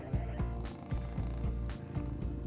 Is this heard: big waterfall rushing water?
no